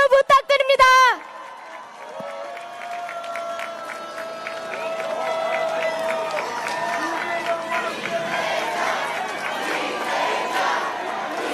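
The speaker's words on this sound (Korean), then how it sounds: "뜨거운 함성과 박수" Crowd at a Yeongdeungpo election campaign rally for presidential candidate Lee Jae-myung cheering and applauding, rising into sustained shouting, whoops and clapping after a brief amplified voice at the start.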